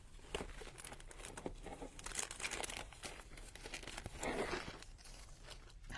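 Paper being rummaged and shuffled through while searching for pre-cut sheets at a junk journal crafting table, with continuous close crinkling and rustling, bursts of louder crumpling throughout.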